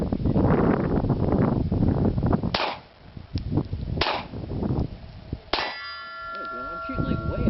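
Sharp cracks of a Glock pistol firing Silver Bear ammunition outdoors on a windy day, three loud shots spaced a second or more apart, each ringing briefly against steady wind rumble.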